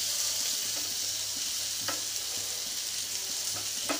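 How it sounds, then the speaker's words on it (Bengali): Onions coated with turmeric, chili and salt fry in a hot pan, giving a steady, close sizzle with a few sharp clicks from stirring. "এই যে এইভাবে আমি পেঁয়াজটাও ভেজে নিব।"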